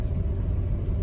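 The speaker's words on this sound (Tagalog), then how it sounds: "Yan ang aking truck" A pickup truck engine idles steadily nearby, a continuous low rumble with a faint throb and no other sounds over it.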